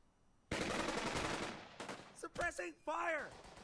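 Suppressing machine-gun fire in the World War II strategy game Burden of Command, a loud sustained rattling burst followed by scattered shots and short shouted voices.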